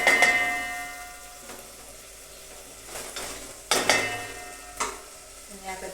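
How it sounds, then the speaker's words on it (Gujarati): A spoon stirs chopped tomatoes into hot oil in a pan for a cauliflower curry, giving soft scraping strokes over a gentle sizzle, with a few sharper clinks of utensil against the pan. "તેને પણ આપણે સારી રીતે હલાવી લઈશું"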